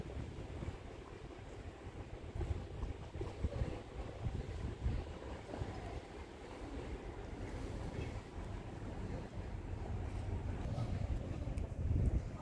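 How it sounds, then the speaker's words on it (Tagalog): Strong wind buffets the microphone over rough, choppy sea waves by a seaside restaurant terrace at the end of the summer season, a steady loud roar that builds slightly toward the end. "Sobrang mahangin at sobrang maalon."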